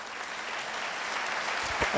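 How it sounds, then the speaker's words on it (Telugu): An audience at a boot camp session in Warangal claps, a soft, even patter of many hands that swells slightly toward the end, with no talking over it. "కొడితే చప్పట్లు గట్టిగా కొట్టండి"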